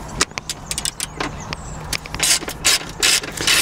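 Ratchet driving a 30 Torx bit to loosen the front screws on a Vespa GTS 300 hpe scooter, with rapid close clicking bursts that come in repeated strokes and grow denser and louder.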